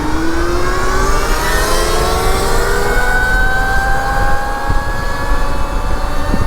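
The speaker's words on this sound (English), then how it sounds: "I'm gonna give mine full throttle." A 60 mph electric bike, 12,000 watts, accelerating at full throttle: a loud, steady motor whine climbs in pitch throughout, with wind rush and no talk.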